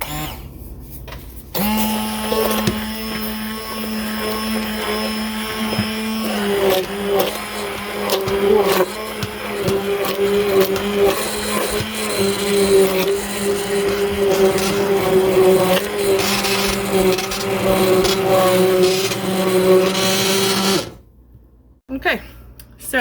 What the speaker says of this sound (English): Next step, immersion blender.